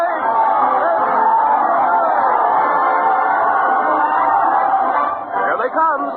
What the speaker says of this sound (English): Listen to that crowd cheer as Fred Allen leads his parade of stars to the old Town Hall.